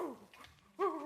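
A dog gives a couple of short, whiny yips, one fading out and another rising brief and clear a moment later, close and fairly loud against quiet.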